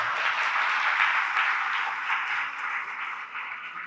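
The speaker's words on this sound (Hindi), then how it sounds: "बजाओ जोरदार ताली" Sustained audience applause in a hall during a Jain religious discourse, dense even clapping from a large crowd that holds steady and tapers slightly toward the end, with no talking.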